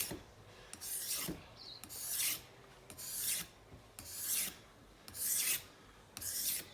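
Kitchen knife sharpened on a whetstone: six steady, rasping strokes in an even rhythm, each a close, smooth gliding scrape of the blade across the wet stone with short pauses between, no voices.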